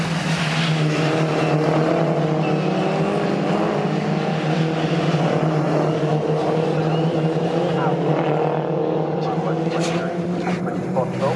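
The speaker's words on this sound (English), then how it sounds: "Jamie Osborne goes all the way around the outside of corner, which is very hard to do" Mini Challenge JCW race cars lapping at Snetterton, a steady loud engine drone with shifting tones as cars pass, running under continuous race commentary.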